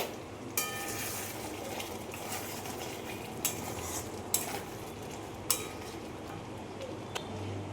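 Butter paneer topped with crushed kasuri methi and chopped coriander simmers in a pan, giving a faint, steady bubbling hiss with a few light utensil clinks scattered through it.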